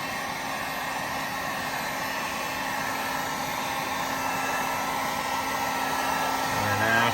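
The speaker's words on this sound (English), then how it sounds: "Use the highest setting on the heat gun, and just keep at it for a while." A heat gun runs on its highest setting, a steady loud blowing whoosh with a faint motor hum that holds continuously throughout, swelling slightly near the end, with no talking.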